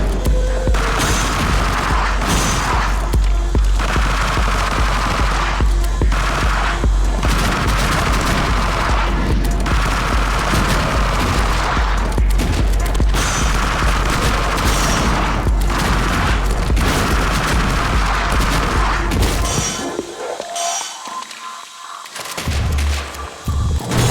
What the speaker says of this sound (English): Love the submachine gun.